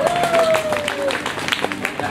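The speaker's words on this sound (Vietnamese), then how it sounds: "Chúng tôi cho một tràng vỗ tay thật là to cho cặp quê hương hạnh phúc" Guests at a wedding reception clap in a brief, dense round of applause while a voice talks over the clapping.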